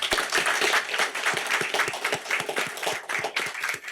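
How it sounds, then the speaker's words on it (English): A modest group applauds at a parish council meeting, with individual sharp claps clearly separable in a loose, uneven rhythm, fairly close and not very loud. "I just want to really give them a round of applause and thank them again."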